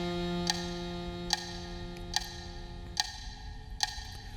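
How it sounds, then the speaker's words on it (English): Woodblock clicks tap out a steady 72-beats-per-minute pulse, five sharp evenly spaced knocks over a soft sustained background tone. "and this is just a little woodblock sound"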